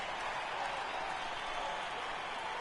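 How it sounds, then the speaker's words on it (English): A stadium crowd in a PS4 baseball video game cheers as a pitcher works a two-strike count, a steady, even wash of distant applause and cheering across the whole stretch. "Crowd starting to get behind Doug Fister."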